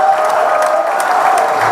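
Crowd applause and cheering at a Florida State spring football game, a broad steady roar of clapping from a large stadium crowd with no letup.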